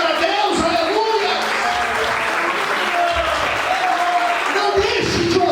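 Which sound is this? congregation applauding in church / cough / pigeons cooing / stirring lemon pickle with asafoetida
congregation applauding in church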